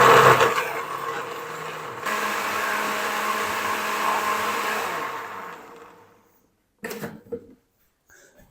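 Kitchen blender whirring as gravy ingredients for Afghani chicken malai kabab karahi are ground into a fine paste, a loud steady motor drone that shifts pitch partway, then winds down to silence, followed by a few brief clunks.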